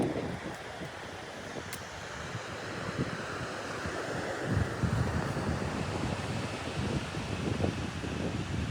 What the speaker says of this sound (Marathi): हा वारेचा बीच आहे